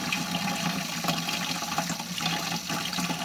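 Water runs steadily from a tap into a garden watering can, a continuous rushing, splashing fill that stays close and even throughout.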